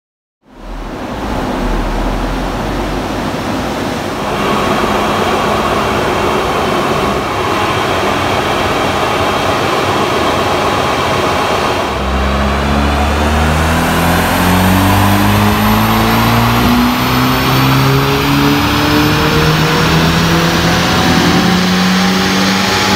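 A Volkswagen Golf R engine on a dyno pull, loud and continuous, with the exhaust and engine note rising steadily in pitch through the gears as it revs toward the top of the pull.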